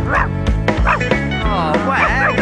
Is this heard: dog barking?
yes